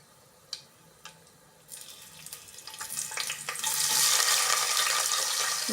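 Quiet scattered clicks give way to a rising hiss that swells into loud, steady sizzling as food fries in hot oil for biryani.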